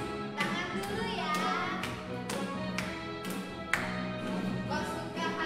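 Young children clap hands in rhythm to a sung children's song at a care center, regular sharp claps ringing out over continuous singing voices, close and lively.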